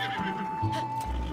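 A horse in Zelda: Tears of the Kingdom gives a short whinny close by, heard over a low ambient hum with a person talking.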